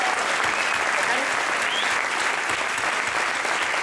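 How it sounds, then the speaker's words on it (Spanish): An audience at a festival master class applauds the festival staff with dense, sustained clapping that fills the space, loud and even throughout with no talk over it. "un aplauso para ellos, a todo el personal de Yasub"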